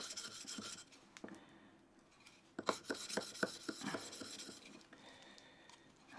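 Steel scissors are sharpened on an 800 grit sharpening stone, giving faint, close rasping strokes in a loose rhythm, with a cluster of sharper scrapes partway through.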